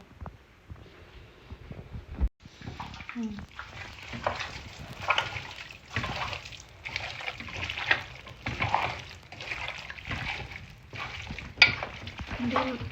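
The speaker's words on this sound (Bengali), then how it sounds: "ঠিক আছে এখন একটু ভালো মতো মাখাও" Biryani ingredients mixed together by hand with ground spices in a kitchen: soft, steady squelching and stirring strokes in a repeating rhythm, with people talking over it.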